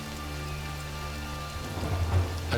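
Steady rainfall hissing on surfaces with low thunder rumbling through a tropical storm, the thunder swelling toward the end, heard alone without voices.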